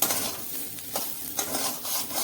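Local potatoes frying in a pan with very little oil are stirred, giving a soft continuous sizzle broken by a few faint scrapes of the spoon against the pan, heard alone and fairly quietly.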